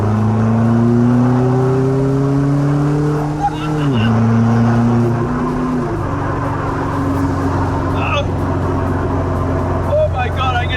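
A homemade DIY car on its first drive, its engine droning loud and close with steady pitch that dips and shifts as gears change, while someone talks over it.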